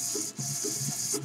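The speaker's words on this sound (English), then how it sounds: "XL motor gives it good power" A Lego Power Functions XL motor runs with a steady, close mechanical whir and a faint high whine, its low hum rising and falling slightly over a brief stretch.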